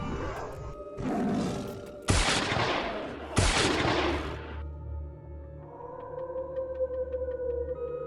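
Gunfire in an animated ghost story cracks out in three loud, sharp blasts about a second apart, each trailing off into a rumble, followed by a lower droning hum.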